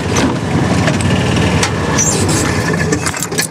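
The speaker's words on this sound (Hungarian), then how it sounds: "Itt a fűnyírás már nagyon profi szinten megy. Elővettük a fűnyírókat." Lawn mowers run outdoors on a cut lawn, giving a loud, steady engine drone with a rough rattling texture that holds for the whole stretch without a break.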